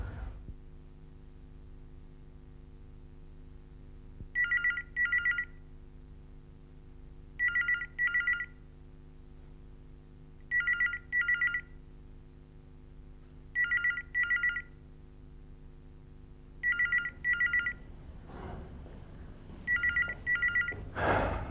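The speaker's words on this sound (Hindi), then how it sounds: "इतनी देर से फोन की घंटी बज रही है" An old-style telephone rings in six double bursts at regular intervals over a low steady hum, with no one answering or speaking.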